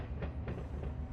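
A Union Pacific freight train rolls past in the Run 8 railroad simulator, bound for Long Beach, its low steady rumble broken by a few rhythmic wheel clacks over a short stretch.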